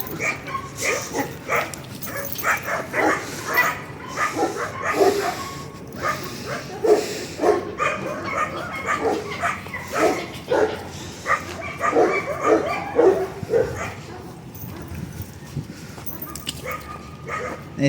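A dog gives repeated short yips and whimpers, fairly close, mixed with people talking nearby.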